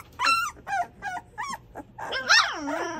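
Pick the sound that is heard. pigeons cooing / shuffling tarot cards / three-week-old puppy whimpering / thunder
three-week-old puppy whimpering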